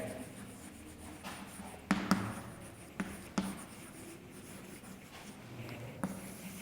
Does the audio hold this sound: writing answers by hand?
yes